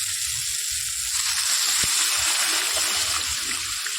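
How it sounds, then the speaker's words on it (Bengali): Water is poured into a pan of frying potatoes with egg-curry spices, onion paste and garlic, giving a steady bubbling hiss with a soft splash. "চলো এবার জলটা দিয়ে দিই।"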